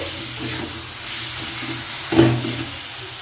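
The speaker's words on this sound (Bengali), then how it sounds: "তো এটা কষানো হচ্ছে" Spice masala for a tomato fish curry sautéing in oil, a steady close sizzle and hiss with one brief louder scrape of stirring partway through, no voices.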